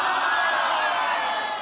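A TV studio audience cheers and whoops in a dense, loud burst of crowd noise that holds steady for a moment before tapering slightly at the end.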